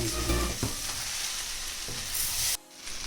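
Vegetables fry in a hot pan with salt and soy sauce for pineapple fried rice, a steady close sizzle with a few brief stirring scrapes and no talking.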